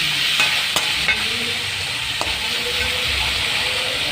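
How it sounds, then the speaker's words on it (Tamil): Tomatoes sautéing in a pan with rock salt and turmeric, a steady loud sizzle with a few sharp clicks of a utensil against the pan, close up and without talk. "நல்லா வதங்கி சீக்கிரம் வதங்கணும் தக்காளி"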